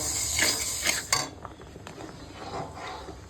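Rice and two kinds of mung dal washed together in a pot for khichuri, with clinking of utensils and metal pot sounds, rattling and sloshing, close by and fairly quiet, no talking.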